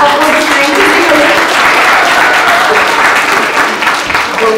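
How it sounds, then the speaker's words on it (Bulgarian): Loud, sustained applause from parents and guests at a primary school fourth-grade graduation ceremony, dense continuous clapping filling the room close by, with no talk over it. "Аплодисменти за Юли."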